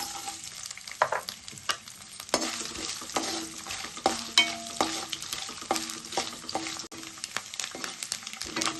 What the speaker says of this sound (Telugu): ఆయిల్ అయితే వేడైంది. 1 కప్పు కొబ్బరి ముక్కలు వేపుకుందాం.